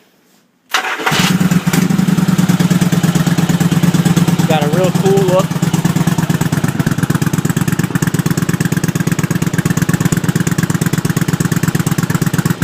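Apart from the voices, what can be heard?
Honda 750 Virgo motorcycle with Cobra exhaust starting and idling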